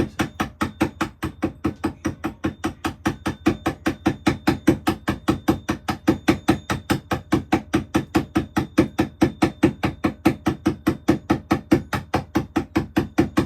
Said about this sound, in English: swinging this hammer at the same continuous blows